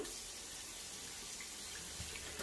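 Water runs steadily from a tap while hair is being washed, a faint continuous hiss and splash with no talk.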